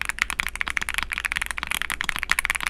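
A modded Mod007s V2 mechanical keyboard is typed on quickly and continuously, giving a dense run of close, crisp, high-pitched key clacks with no talking.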